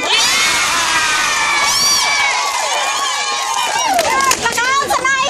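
A large crowd of supporters at a political rally for a mayor shouts and cheers continuously, loud and dense, with high voices rising above the roar throughout.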